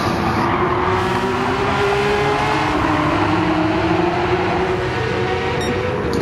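A Porsche race car in Gran Turismo 7 drones along with a continuous engine whine whose tone rises gradually as it pulls through a gear. The racing pack hums beneath it, loud and steady, with no talk.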